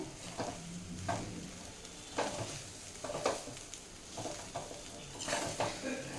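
Methi rice with salt being stirred in a pan: a soft background sizzle broken by repeated spatula scrapes and knocks against the pan every second or so, close and fairly quiet, without speech.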